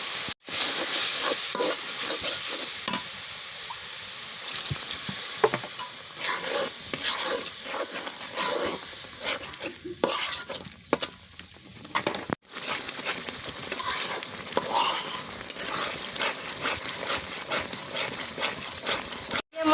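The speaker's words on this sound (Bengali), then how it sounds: "মশলাগুলো কষানি হয়ে গেছে" Spices for duck curry sizzle and fry in a pan on a clay stove, with steady stirring scrapes and crackles throughout and a brief pause partway.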